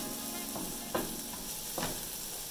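Bell peppers sizzle and fry in a pan for rasta pasta, a steady close crackle broken by two brief scraping stirs, with no talking.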